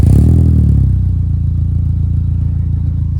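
A Peugeot 206 WRC tribute car with a full custom exhaust fires up and settles into a loud, steady low idle rumble, heard close and alone.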